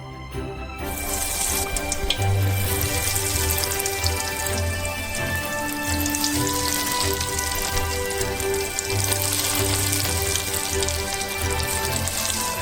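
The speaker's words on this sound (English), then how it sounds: "And we deep fry our potato croquettes." Potato croquettes deep frying in a pan filled with a couple of bottles of oil on the stove, a loud, dense crackling sizzle like heavy rain that runs steadily throughout.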